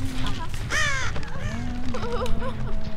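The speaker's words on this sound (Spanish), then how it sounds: "Ese cuervo no ha hecho ruido por nada" A crow caws repeatedly in the Dead by Daylight video game, loud and close, over steady game music and with a person talking over the calls.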